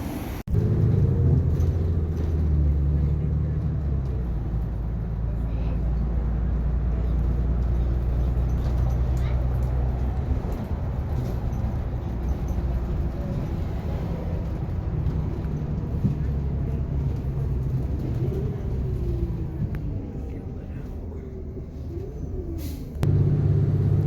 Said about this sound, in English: Oh, here comes my bus.